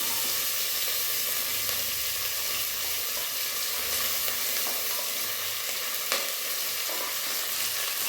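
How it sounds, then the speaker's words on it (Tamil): Onion pieces sautéing in a pan while preparing a vegetable rice dish, a continuous dense sizzle up close with a few faint stirring clicks, no voices. "வெங்காயம் வந்து லைட்டாக இந்த இந்த மாதிரி பாதி வதங்கினா போதும்"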